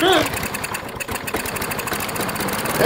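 A small engine idles steadily nearby with a rough, continuous mechanical rumble, while a voice talks over it.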